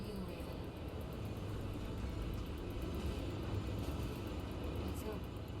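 A massive helicopter in the Armored Core VI mech combat game, heard as a steady, dense low rotor-and-engine rumble that holds constant and loud throughout, with a voice speaking over it.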